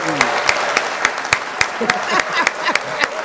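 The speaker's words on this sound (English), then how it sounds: "I'm clapping for everybody" Sharp, evenly spaced handclaps ring out one after another at a close, loud level while a person talks over them, following a sung performance.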